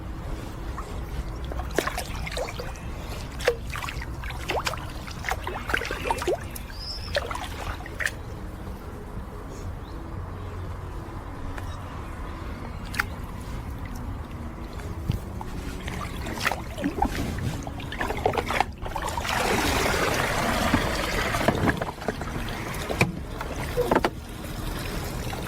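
Pool robot hoisted out of a backyard pool, water splashing and trickling off it, irregular drips over quiet outdoor ambience, then a louder rush of pouring water near the end.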